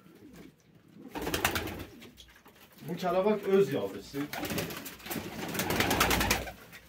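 Van pigeons coo in a loft, a soft throaty warbling that rises and falls close by, partly under Turkish speech from people nearby.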